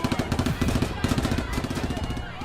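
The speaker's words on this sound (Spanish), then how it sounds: "Acto seguido, los guerrilleros rafaguearon el carro." Rapid automatic gunfire from a machine gun fired at a car rattles in a continuous burst, dense repeating shots with a voice speaking over it.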